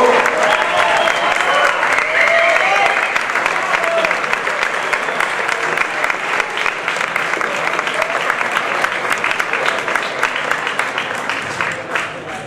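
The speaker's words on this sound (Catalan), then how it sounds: "Aplaudiment." A festival crowd applauds warmly at a celebration, dense and sustained clapping lasting over ten seconds, close and loud, gradually thinning toward the end with a few voices mixed in.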